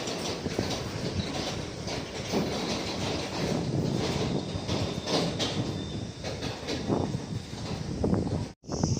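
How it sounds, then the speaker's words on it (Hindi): A train at Nagina railway station starting to move, a steady close rumble of rolling stock with faint rattling and clatter throughout and no voices. "अभी ट्रेन चल जाएगी हमारी।"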